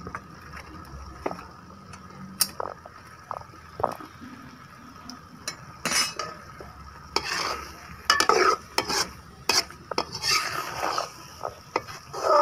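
Spicy scrambled eggs sizzle in a non-stick pan while a utensil stirs and scrapes, giving irregular clicks and scraping bursts over a soft, steady frying hiss close to the microphone.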